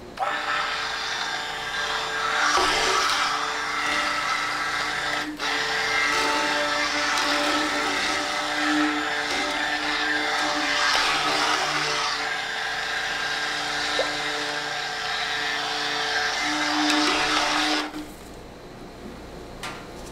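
Blender whirring as calendula carrot soap is mixed into base oils, a steady high-pitched motor drone running continuously for most of the clip before cutting off near the end.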